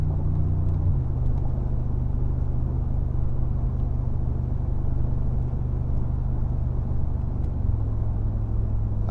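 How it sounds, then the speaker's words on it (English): Mercedes-AMG G63 in manual mode dropping a gear and accelerating uphill, a loud steady engine drone that shifts pitch at the downshift, then holds and steps again near the end, heard from inside the cabin. "I have it in manual right now, so I can drop it down a gear and then accelerate."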